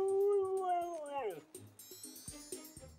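Siberian husky sled dogs let out a rising and falling howl, with one long wavering voice in front and several more yelps and howls from the pack behind it, fairly close.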